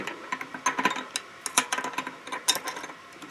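Wrenches working the cone and locknut on a vintage Shimano bicycle hub, making close metallic clicks, taps and grinding ticks in quick irregular clusters, no voices.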